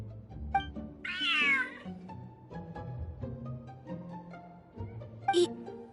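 A cat in Genshin Impact lets out a clear, rising meow around the middle, with a second short cry near the end, over soft game music and background sounds.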